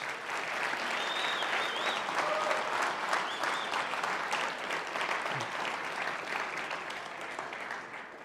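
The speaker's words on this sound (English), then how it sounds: "If we could just give them a big round of applause." Sustained, full applause from a conference audience at a closing keynote, dense clapping holding steady for several seconds before slowly tapering off.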